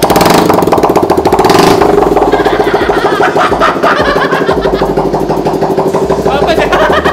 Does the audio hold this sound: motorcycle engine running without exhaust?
yes